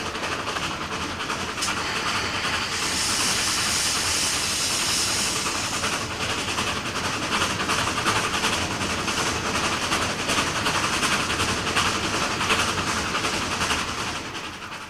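Steam engine running on rails beside a river, with a steady loud hiss of escaping steam, a bright burst of venting partway through, and continuous rumbling wheel and car noise underneath.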